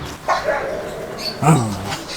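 A couple of short dog barks and yips ring out close by, separated by a brief pause, with soft whining in between.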